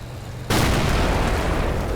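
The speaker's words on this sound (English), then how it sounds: "it's another anti-tank missile" Anti-tank missile striking in Combat Mission: Cold War: quiet rumble, then one sudden loud blast about halfway through that stays as a broad, roaring, slowly fading wash of explosion noise.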